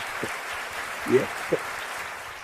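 Applause from a lecture audience rises as a broad, steady wash of clapping beneath someone speaking briefly in Hindi.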